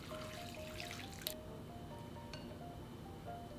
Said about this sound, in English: In a bowl, add the glass noodles and pour in the hot water.